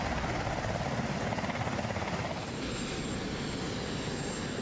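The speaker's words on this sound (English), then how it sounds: "Marine One is the call sign of any helicopter used to carry the president on short trips." The Marine One presidential helicopter passes with a loud, continuous rotor thump and engine roar, close and steady, easing slightly after the midpoint, with no voices.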